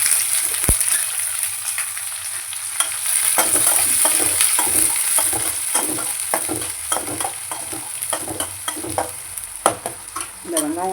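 Crushed garlic and chopped onion frying in oil for a fish curry (meen kuzhambu), a steady sizzle under repeated scraping stirs with a spoon, close and fairly loud, with a sharp clink near the start.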